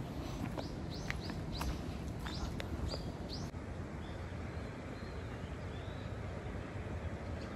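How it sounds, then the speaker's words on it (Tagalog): Birds chirp and tweet in short bright calls over a steady outdoor background hiss, with the calls thinning out after the first few seconds. "Magandang pakinggan yung huninan ng ibon."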